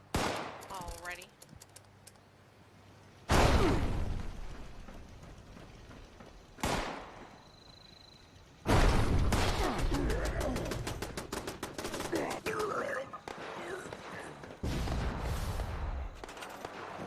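Turrets in Fallout 76 fire in loud, rapid bursts: a few separate blasts early, then a long sustained stretch of automatic fire near the end, with quieter gaps between.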